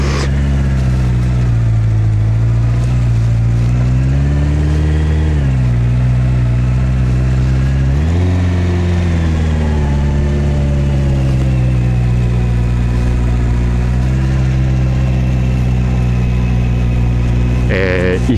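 A Honda CB650R motorcycle creeps slowly along a mountain road on half clutch, its four-cylinder engine humming low and steady close up, pitch dipping and swelling slightly with throttle changes, under wind noise.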